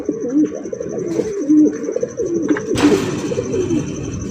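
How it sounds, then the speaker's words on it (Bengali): Pigeons cooing repeatedly in low, throaty rolls, close by, with a brief rustle of wings partway through. "সুপার কোয়ালিটি একজোড়া বিউটি কবুতর পাইতেছেন"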